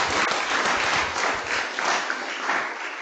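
A conference audience applauds its speakers at the close of a brainlearn session, a steady, dense wash of clapping that holds evenly for the whole stretch with no voices over it.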